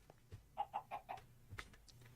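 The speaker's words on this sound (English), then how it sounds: "What is going cluck, cluck, cluck?" A chicken in the Minecraft video game gives a quick series of four short, evenly spaced clucks at moderate loudness, with a couple of fainter clucks after them and no talking.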